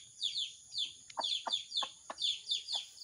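Pet chicks peep in quick, regular bursts, high and close, with a few short lower clucks from nearby hens cutting in between.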